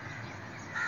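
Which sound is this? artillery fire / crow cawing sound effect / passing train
crow cawing sound effect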